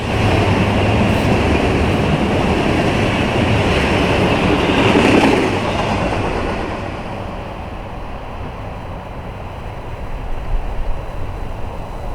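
A freight train rolls loudly past the Madison Street grade crossing, a dense close roar of wheels and cars that eases off partway through, leaving a lower rumble with a few rattling knocks near the end.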